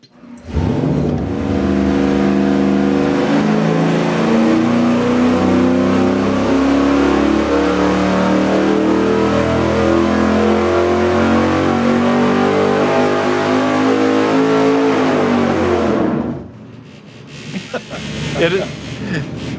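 A Windsor V8 engine running on a dyno, roaring loud and steady as it climbs through the revs for about sixteen seconds before cutting off, followed by people speaking.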